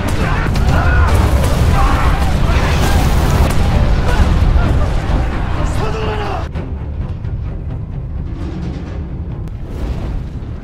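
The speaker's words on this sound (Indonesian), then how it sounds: "Ratusan meriam ditembakkan untuk menghabisi prajurit Joseon." Hundreds of cannons fire in a heavy battle against Joseon soldiers, a dense continuous rumble of booms and blasts that stays loud throughout, easing slightly toward the end.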